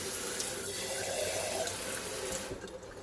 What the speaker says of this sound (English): I'm gonna put a little bit more water in the bottom of it.